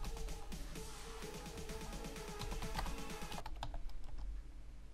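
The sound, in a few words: typing a command on a computer keyboard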